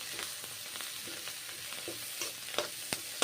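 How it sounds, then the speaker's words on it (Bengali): Shredded cabbage with onion sizzles in a pan, the steady frying hiss broken by several sharp spatula scrapes and clicks, louder toward the end; close and without talk. "নেড়ে চেড়ে ভেজে নিচ্ছি বাঁধাকপি এখন ভেজে নিচ্ছি"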